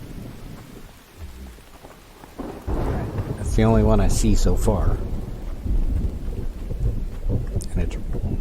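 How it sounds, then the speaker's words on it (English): Heavy rain falls steadily in the survival game Infected, and a loud rumble of thunder swells and rolls across it. Someone speaks briefly over the storm. "And it's raining here,"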